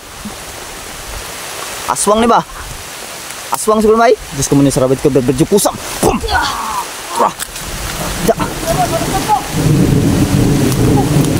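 Heavy rain pours in a steady dense hiss with rumbling thunder underneath, loud and close, while several people talk and exclaim over it.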